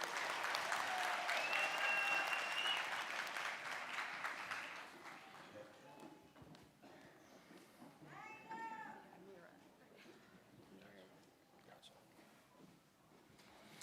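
Audience applause at a nursing graduation ceremony, a dense wash of clapping strongest at first, then thinning and fading under scattered voices and cheers.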